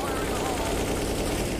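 Gunfire in the video game Counter-Strike: Global Offensive, a dense continuous burst of loud rapid shots filling the whole moment without pause.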